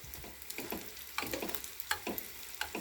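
Oil sizzles steadily as dough for fried filled pies fries, with soft clinks and scrapes of a utensil stirring in the pan at close range.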